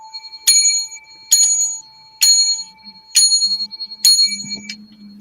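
Five bright bell rings spaced about a second apart, each clear and ringing with a short decay, close and fairly loud, with faint low murmuring near the end.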